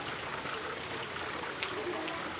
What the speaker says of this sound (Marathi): बघा मस्त पाऊस सुरुवात झाली आहे